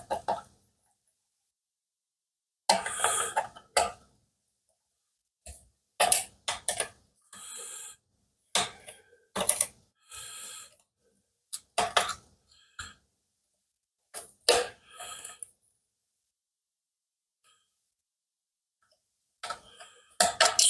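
Flat blade screwdriver turning screws on the handle of a Smith-Corona 5TE typewriter case, a series of short close clicks and scrapes in irregular bursts with quiet gaps between.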